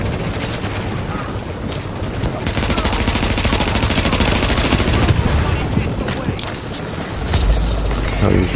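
Rapid automatic gunfire and bursts of shooting from The Division video game, loud and sustained throughout a firefight with heavy booming layers, while a voice talks over it.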